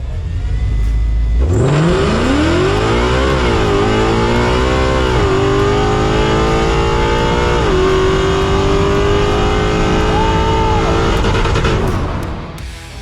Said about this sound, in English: Here's a sneak peek of this Cobra running, even faster than Vin Diesel's 10-second car.